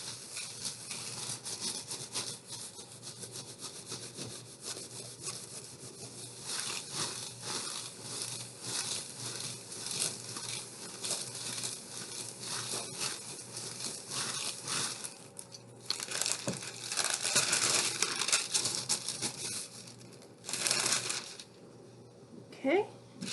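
Bubble wrap is folded for a jewelry craft, giving close crinkling and rustling plastic that grows louder in bursts toward the end, with a person talking throughout.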